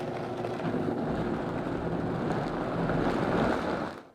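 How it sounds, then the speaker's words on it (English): A Vitamix blender purees asparagus soup, a steady loud whooshing roar that holds constant for several seconds, then cuts off abruptly as the motor stops. "I'm going to puree the soup in my Vitamix blender"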